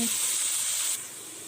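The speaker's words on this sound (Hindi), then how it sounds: "उसमें मैंने 3 अदद रफली चॉप प्याज डालकर और इनको मैं सॉफ्ट करती हूँ। इनको हम अच्छे से सौते करेंगे।" Roughly chopped onions sautéing in hot oil for a Balochi lagan gosht give a steady, close hiss and sizzle that drops slightly in level near the end, with no voices over it.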